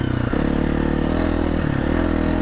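KTM 350-500 EXC dirt bike with an uncorked ECU accelerating hard, a loud close engine roar that dips briefly on each gear change before pulling again.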